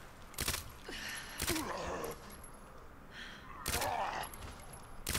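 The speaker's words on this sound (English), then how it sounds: "This gun is so pathetic. It's like a BB gun. You shooting pellets at him?" Gunfire in Resident Evil 2 Remake, Claire's campaign: a few quick, fairly faint gunshots spaced apart, with a low background and voices talking nearby.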